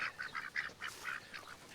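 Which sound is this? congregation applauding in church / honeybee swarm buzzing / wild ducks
wild ducks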